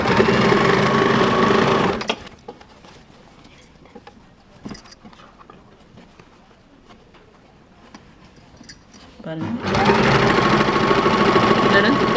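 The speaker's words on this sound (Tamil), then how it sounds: "கொஞ்சம் ஸ்லோவாக அடிங்க திக்கான இடம் வரும்போது கொஞ்சம் நிறுத்தி ஸ்லோவாக அடிச்சுக்கோங்க" Sewing machine stitching elastic onto kids' underwear, a loud rapid whirring burst, then a quiet pause with faint handling clicks and a voice, before the machine runs fast again.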